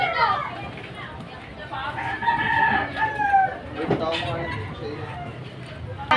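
A chicken crows and clucks inside a smelly, dirty pigeon coop, close and fairly loud, with people talking and children's voices mixed around it.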